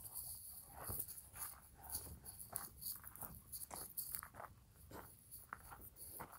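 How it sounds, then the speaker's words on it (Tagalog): A heavyset dog pants after a walk in the desert, with quick soft rapid breaths repeating close by throughout, faint and heard alone. "nihingal na yung aso."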